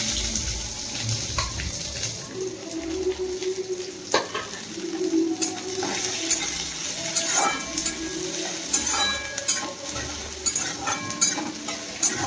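Chopped onions fry in hot oil with dried red chilli, whole garam masala and a bay leaf for a soya biryani, a steady sizzle with stirring clatter and occasional utensil knocks.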